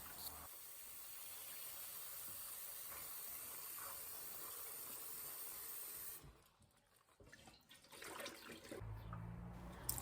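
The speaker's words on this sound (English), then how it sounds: "I'm rinsing the soaked beans under running water." Soaked beans being rinsed under a running tap, a steady broadband hiss of flowing water that dips briefly and then returns with some clattering, close by and without voices.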